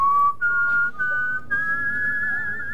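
A person whistles a clear, sustained melody of long held notes with brief breaths between phrases, close and fairly loud over a quiet background.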